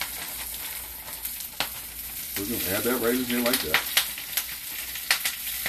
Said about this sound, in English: you're gonna get a little sizzling because oil and water don't mix.